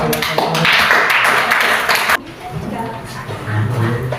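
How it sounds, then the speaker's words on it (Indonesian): Applause from a classroom audience of students, a burst of dense clapping lasting about two seconds before it cuts off abruptly, followed by quieter room noise and voices. "Ayo kita beri aplaus."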